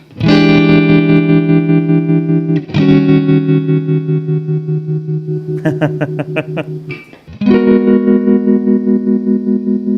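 An electric guitar plays sustained, buzzing chords through an Ernie Ball Expression Tremolo pedal, broken into a quick stuttering pulse midway before the steady tone returns.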